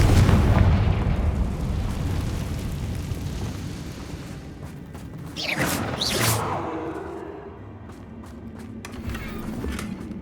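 A Confringo fire spell from a wizard's wand in the Hogwarts Legacy video game bursts with a loud rumbling explosion, then two sharp whooshing crackles follow amid game effects.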